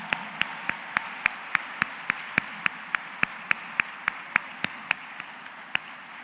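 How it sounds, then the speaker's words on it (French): Steady, evenly spaced claps, about three per second, sound close and fairly soft. There is a faint hum of room background and no talking over them. "Camper pour nous applaudir encore une fois."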